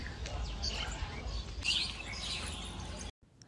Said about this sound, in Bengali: ও মা, কিতনা পাখি।